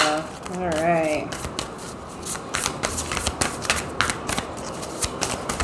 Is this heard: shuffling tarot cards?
yes